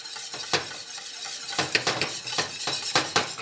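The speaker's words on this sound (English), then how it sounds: "start off with just a little pat of butter, and you can use the heat from the burner to help whisk it in" A whisk scrapes and clinks rhythmically against a pan as butter is worked into hollandaise sauce over a noisy, unbalanced burner, with repeated quick strokes close by and no talking.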